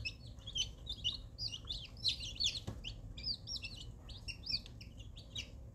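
Newly arrived baby chicks cheep in rapid, high, thin bursts, a busy flock peeping continuously at close range but quietly, over a low background hum.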